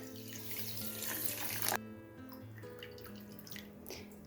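Tap water runs into a pan holding sugar for a malpua and kheer recipe, a steady close rush and splash that cuts off abruptly partway through, leaving faint drips and light clinks.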